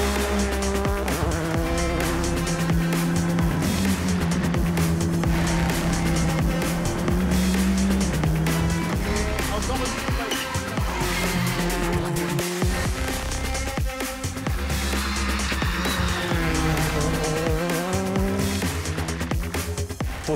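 A Rally2 rally car runs hard on asphalt. Its engine roars loud and close throughout, rising and falling through gear changes, with tire squeal and a steady, continuous drone.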